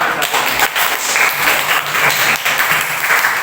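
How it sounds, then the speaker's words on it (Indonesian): Classroom audience bursts into loud, sustained applause, dense overlapping claps filling the room for several seconds with no clear pauses. "sekali lagi beri tepuk tangan untuk"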